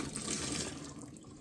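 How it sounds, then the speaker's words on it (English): Leftover RV winterizing liquid is poured down a drain to fill the P-trap, giving a brief, steady, close rush of flowing liquid. "Anything that you got left over, we're going to pour down the drains."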